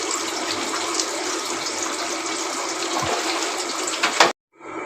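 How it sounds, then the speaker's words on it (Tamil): Steady broadband rush of water pouring into a pot for chicken biryani, continuous and fairly loud, cutting off abruptly near the end. "தண்ணி ஊற்றி"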